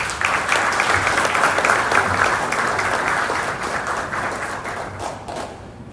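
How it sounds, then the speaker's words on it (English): A conference audience in Nairobi gives loud, dense applause for a speaker, continuous clapping across the room that stays strong and tapers a little near the close, with no voices over it. "A round of applause for him, please."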